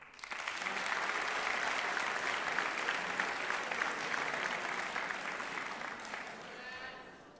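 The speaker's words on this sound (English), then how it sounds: "A round of applause for the men's soccer team" Audience applause at a college sports awards ceremony honoring a men's soccer team, a steady, dense round of clapping from a large room lasting about seven seconds before tapering off, with faint voices beneath.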